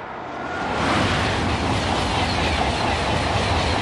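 An electric train on a trial run in South Korea on a freezing winter morning passes close by in a steady, loud rumble with rhythmic clickety-clack of wheels over rail joints, no voices.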